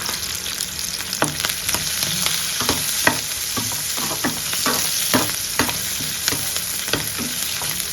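Slit green chillies fry in a pan with a dense, close sizzle punctuated by frequent sharp pops and spatter crackles throughout, with no talking.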